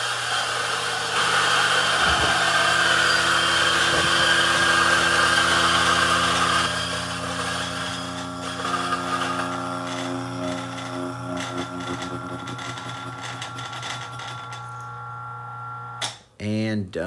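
A DF64E electric coffee grinder whirs steadily as it grinds espresso beans, a loud continuous motor drone that softens and shifts in pitch partway through before cutting off near the end.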